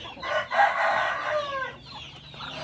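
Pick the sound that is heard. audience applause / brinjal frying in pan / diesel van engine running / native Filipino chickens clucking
native Filipino chickens clucking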